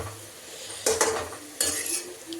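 Metal ladle scraping and clinking against a pot while stirring guar bean and bottle gourd curry in a home kitchen, two short bursts of scraping over a low background hum.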